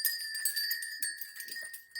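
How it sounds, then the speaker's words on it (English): Christmas bells ring continuously, a bright sustained metallic tone with shimmering overtones, steady and fairly close, with faint handling rustles beneath. "I hope you like the sound of bells ringing."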